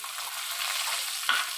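Sliced onions hit hot oil in a pan already holding fried chilli, bay leaf, whole garam masala and cumin for a mutton curry, giving a steady close sizzle with a brief stirring scrape near the end.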